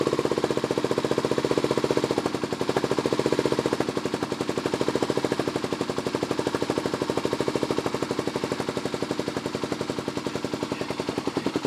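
Kawasaki KLX250SF motorcycle engine idling on choke, a steady fast pulsing thump that holds an even rhythm without revving, close and fairly loud throughout.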